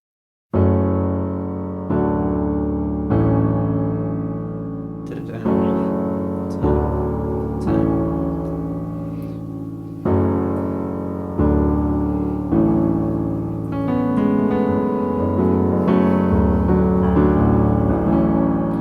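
Piano plays a short repeating phrase of chords and melody from the A-Team theme, steady and close, with no voices.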